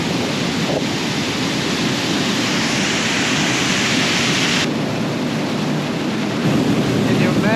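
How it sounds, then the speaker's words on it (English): Water roars out of a dam outlet at Lake Tinaroo, a loud, steady broadband rush that fills the whole span without pause, rising slightly near the end. "The amazing amount of water just gushing out there."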